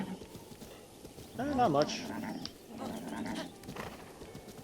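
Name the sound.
horse hooves and neighing in a video game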